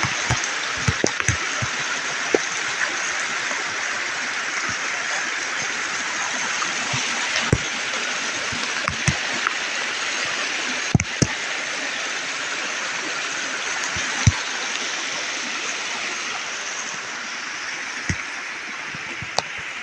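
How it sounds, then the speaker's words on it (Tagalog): Heavy rain pours steadily on a farm while floodwater rushes past, a dense continuous roar with scattered sharp drops and knocks close by; no one talks. "Oh, kusog ang ulan."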